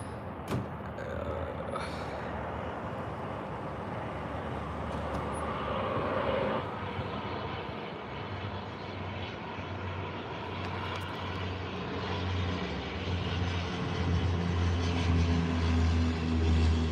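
A Dash 8 Q200 turboprop landing at Calgary airport is heard as a steady engine and propeller drone, loud and fairly near throughout, with a low hum building toward the end and no talk.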